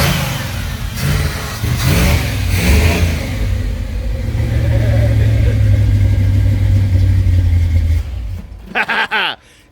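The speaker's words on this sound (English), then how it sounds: "You get that carburetor on there, buddy. That dadgum thing sounds good, don't it?" A truck engine fitted with a new carburetor revs loud and close, its throttle held high and sustained for several seconds before dropping back with a few quick blips at the end.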